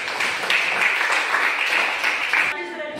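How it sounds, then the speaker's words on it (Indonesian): Classroom applause after a student group's presentation, a steady dense wash of many hands clapping that holds for the whole stretch and cuts off sharply near the end, with a voice beginning to speak afterward. "Ya, berikan tepuk tangan yang"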